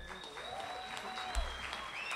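Audience applauding a band at an outdoor Sesiones Al Parque concert, a steady wash of clapping at moderate level with a faint tonal hum and some voices mixed in.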